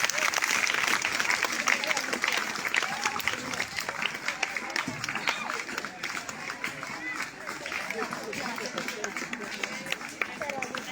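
Schoolchildren at a Teachers' Day honour ceremony at a school in Wazirpur applaud together, a dense continuous wash of many hands clapping from a large crowd lasting throughout, with voices mixed in.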